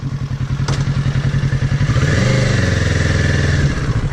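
A motorcycle engine idles with a rapid chugging pulse, a metallic clunk as it drops into gear, then the engine note thickens and steadies.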